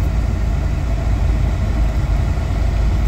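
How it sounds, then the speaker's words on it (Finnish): A Subaru car engine idles steadily just after starting, a continuous low rumble close by with no talk over it. "Eli ensin moottori käyntiin, ilmastointi päälle, ihan kylmälle"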